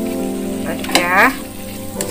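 Kencur leaves mixed with papaya and cassava leaves stir-fry in a hot pan with a loud, steady sizzle, and a spatula scrapes and stirs through them briefly.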